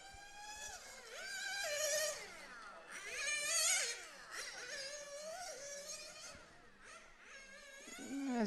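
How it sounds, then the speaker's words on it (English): Nitro-powered 1/10 scale RC cars racing at a European Championship in Italy, engines screaming at the limit with rising and falling high-pitched whines as they pass, fading in and out at a distance. "As you can hear, also Tony start to be on the limit with the engine"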